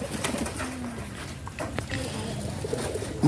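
Domestic pigeons coo softly and steadily in a courtyard, a low murmuring burble from several birds running continuously under faint ambient noise.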